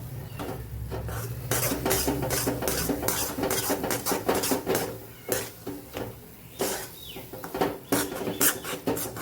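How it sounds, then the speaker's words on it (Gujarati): A metal spoon stirs and scrapes through a thick, syrupy sweet mixture for laddoos in a metal pan after cardamom powder is added, giving steady rhythmic clinks and rasping scrapes close by. "અહીંયા આપણે એલચી પાવડર ઉમેરી દઈશું અને મિક્સ કરી લઈશું"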